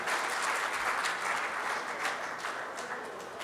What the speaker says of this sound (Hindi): जोरदार तालियां एक बार सर अता करें प्लीज